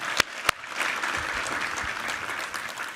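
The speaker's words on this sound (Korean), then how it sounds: "우리 하나님께 감사와 영광의 박수 올려드리겠습니다" A church congregation at a Sunday worship service breaks into steady applause after two sharp opening claps, a broad even patter of many hands filling the hall.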